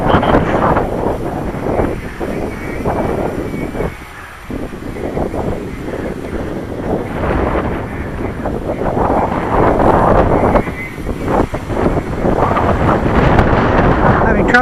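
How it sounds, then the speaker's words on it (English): Strong wind gusts pound the microphone during a radio-controlled aircraft flight, a heavy rumbling roar that briefly drops and then surges again, with a voice speaking over it. "Here comes the gusts."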